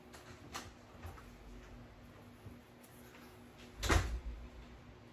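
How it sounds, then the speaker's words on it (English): Indoor doors shut, giving a couple of dull thuds, a lighter one early and a louder, heavier bang near the end, against quiet room tone. "I'm sorry all these doors are shutting,"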